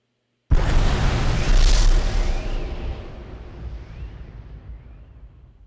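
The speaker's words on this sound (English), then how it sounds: "Which is a very, very loud explosion there." A large video game robot, the Patrol Mech, is destroyed in a very loud explosion: one sudden booming blast followed by a long rumbling roar that slowly fades away.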